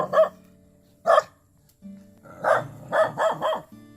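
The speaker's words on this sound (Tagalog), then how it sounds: "Kasama ni tatay aso." A dog at an old man's small, hole-ridden house barks in sharp bursts: two single barks, then a quick run of four, fairly close and loud with no talk over them.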